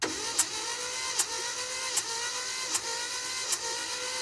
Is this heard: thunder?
no